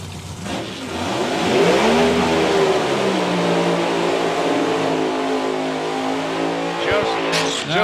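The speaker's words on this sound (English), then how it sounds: "Just as they do their burnouts very quickly" Drag racing cars at a European finals event do burnouts, engines revving hard with a loud sustained roar and rising pitch and a brief tire squeal, while an announcer talks over the PA.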